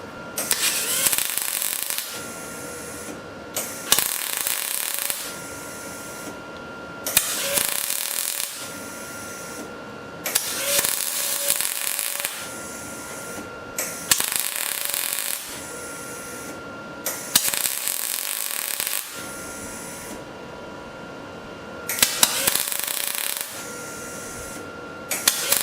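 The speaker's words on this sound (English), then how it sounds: "I'm going to do this in very short bursts, so it's not going to look like your normal welding technique." Aluminum welded with a spool gun in short bursts, about eight loud crackling hisses of two to three seconds each, separated by brief quiet gaps, close and with no talk.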